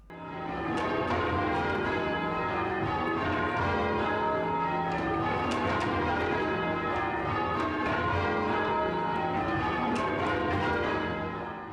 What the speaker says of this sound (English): In the bell chamber, the bells are hung in a frame, usually made of steel or oak, and they're attached to a wooden wheel